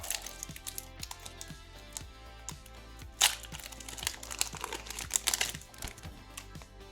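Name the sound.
opening a Lorcana trading card booster pack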